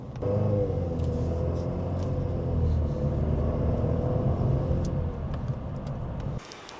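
A car drives into central Warsaw, with a steady low engine and road rumble from inside the cabin, some faint ticking clicks, and a sudden drop in level near the end; no one speaks.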